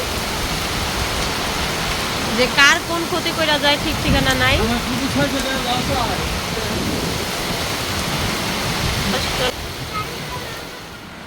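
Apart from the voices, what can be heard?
heavy rain in a storm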